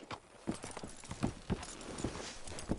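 Horse hooves clop in Red Dead Redemption 2, a handful of uneven hoofbeats at a slow walking pace, moderately close against a soft background.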